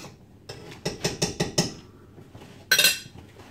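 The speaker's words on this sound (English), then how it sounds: "I'm just mixing up some of this delicious, tasty, smelling, good gravy right here" A spoon stirs gravy mix in a bowl, giving a quick run of sharp, evenly spaced clinks against the side, a pause, then one brighter clatter.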